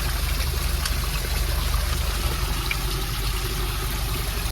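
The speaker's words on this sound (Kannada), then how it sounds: "ನೋಡಿ ನೀರು ಯಾವ ಥರ ಹರಿತಾ ಇದೆ ಅಂತ" Hill water flows steadily inside a gem mine in Sri Lanka, making a continuous loud rushing, trickling wash that stays constant from start to finish with no speech.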